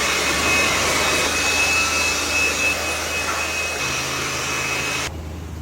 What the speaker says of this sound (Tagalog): blower na lang gagamitin natin.